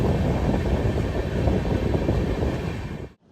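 A passenger train at Bardhaman station at night gives a heavy, steady low rumble with a broad hiss above it, loud and close, then cuts off abruptly at the end.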